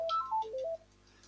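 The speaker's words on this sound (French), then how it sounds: "Pardon, mon téléphone est sonné." Mobile phone ringtone plays a short melodic run of clear electronic tones, loud and close, lasting about a second before fading.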